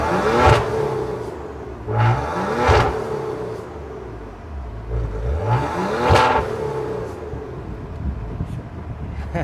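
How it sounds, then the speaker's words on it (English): A turbocharged luxury sedan engine revs hard in several separate bursts, each rising sharply and falling back to a rough idle, loud and close with no talk. "The turbos sound good."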